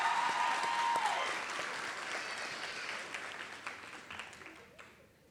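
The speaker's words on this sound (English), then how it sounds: "Can we give him another round of applause?" Applause from a convocation audience for a nursing graduate, a broad sustained clapping wash that gradually thins and fades toward the end, with no talk over it.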